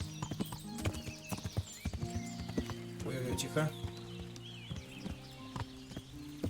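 Horse hooves clip-clopping at a steady rhythm in the medieval game Kingdom Come: Deliverance, close and fairly loud, with a brief whinny and someone talking over the gait.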